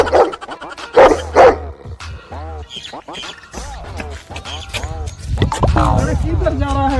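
Village dogs bark in a rural setting, a few loud yelps clustered early, with several people talking over and between the barks throughout.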